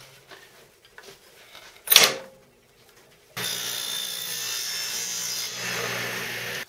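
Hand sawing a scrap wood board, with a few faint scrapes and a sharp knock, a pause, then a steady continuous rasping cut close by.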